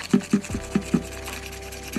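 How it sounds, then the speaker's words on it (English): Sandpaper rubs lightly across a PS4 controller shell, short rasping strokes repeating in a quick, even rhythm, close and fairly quiet. "sanding away at your controller"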